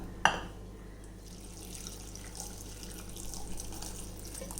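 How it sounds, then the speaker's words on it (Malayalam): Water runs and splashes steadily into a pressure cooker holding pumpkin pieces, opening with a sharp clatter and then a continuous, close pour. "ഇതിലേക്ക് നമുക്ക് വേകാൻ ആവശ്യത്തിനുള്ള വെള്ളം ഒഴിച്ചു കൊടുക്കാം."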